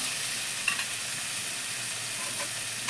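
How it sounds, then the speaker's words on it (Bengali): Water poured into a pan of frying spice paste with green banana pieces for a silver carp fish curry, giving a loud, steady broadband sizzle and hiss with a few brief spits, close and continuous, no voices. "এবার আমি জল দিয়ে দেবো।"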